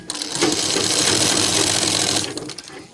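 An electric sewing machine runs loud and close in one continuous burst, stitching a folded edge on a slip, then winds down to a stop.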